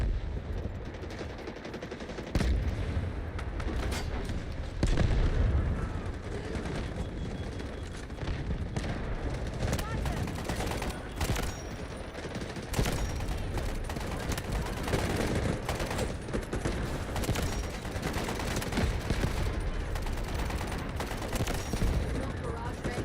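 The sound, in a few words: artillery barrage and gunfire in the video game Delta Force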